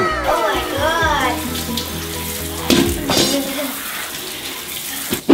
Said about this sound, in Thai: เปิดก๊อกเลยครับ